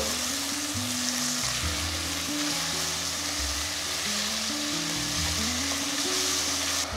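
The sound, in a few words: sautéing onions in pan for veg salna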